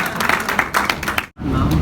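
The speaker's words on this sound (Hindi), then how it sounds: "जोरदार तालियों से अजीत सिंह जी" Enthusiastic applause for a speaker at a network-marketing leadership event in Haridwar, a dense burst of close clapping that cuts out briefly, then resumes just as strongly.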